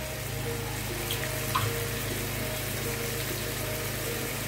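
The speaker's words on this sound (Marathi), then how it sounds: "आणि आता मी यात गरम पाणी घालते." Hot water being poured into a pot of chicken curry makes a steady, continuous rushing splash at moderate level over a low background hum, with no talking.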